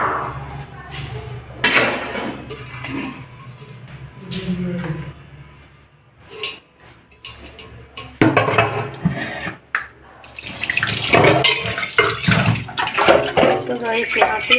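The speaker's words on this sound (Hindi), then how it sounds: "पालक धुल के रख देते हैं।" Tap water runs and splashes while spinach is washed at a kitchen sink in the evening, a steady rushing stream with clatter, loudest in bursts near the end, with talk over parts of it.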